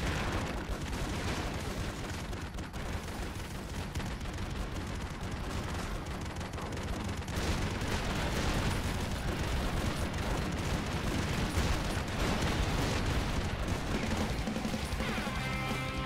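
A terror cannon fires in a Roblox video game, dense continuous booms and explosions crashing loudly over the whole stretch with barely any talk.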